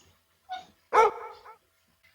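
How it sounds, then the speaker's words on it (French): A dog bark sample added to an FL Studio beat: a single loud, close bark followed by a shorter yelp, heard alone and dry against silence with no talking. "j'ai juste ajouté cet aboiement là de chien"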